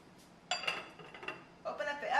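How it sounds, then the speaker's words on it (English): Two bursts of metallic clatter, a lid knocked and set onto a pot, with a short clinking pause between them, close and fairly loud. "I'm going to cover it with a lid."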